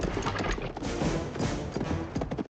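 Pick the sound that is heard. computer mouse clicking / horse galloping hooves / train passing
horse galloping hooves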